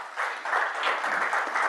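Short burst of scattered audience clapping at a legal summit and awards ceremony as a judge walks up to the stage, moderately close and fairly sparse, with no clear cheering.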